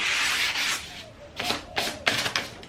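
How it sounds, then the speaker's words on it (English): Hand sanding the side edge of a wooden furniture piece with 240 grit sandpaper: a continuous close rubbing hiss that breaks into several short scratchy strokes, with no talking. "So this is 240 grit, and I just go around the side."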